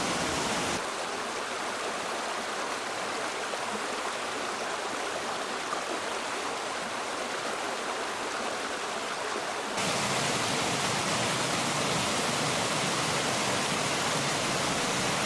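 Stream water flowing over steps of Middle Ordovician limestone in a small waterfall cascade in Ida-Harjumaa, Estonia, a steady broad rushing that grows louder partway through, with no voices.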